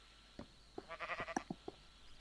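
Sheep in the Minecraft video game bleating, a short series of quiet wavering baas with small clicks between them, clean and alone.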